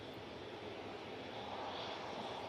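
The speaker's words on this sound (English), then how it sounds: "Etihad 787-10 Dreamliner making its way across 23 right" An Etihad Boeing 787-10 Dreamliner taxis across runway 23R at Manchester Airport, giving a steady, continuous engine roar that stays broad and even throughout, with no voices.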